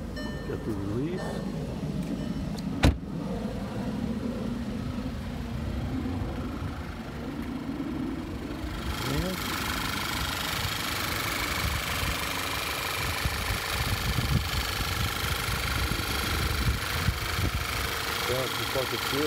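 A 2011 Volkswagen Tiguan SE AWD's turbo engine idles steadily with a low, continuous rumble and slight vibration, while people talk nearby over it.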